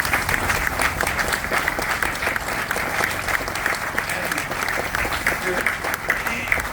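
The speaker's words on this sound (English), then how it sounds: "let us just give a round of applause to all our men and women in blue" An audience at a groundbreaking ceremony for a police precinct building in Antioch, Tennessee, applauds with steady, dense clapping that continues loud and unbroken throughout.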